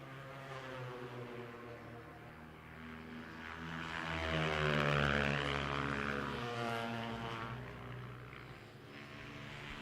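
Kawasaki racing snowmobiles at a power toboggan championship, engines droning steadily and swelling louder as they pass close midway, then easing back, with no talk.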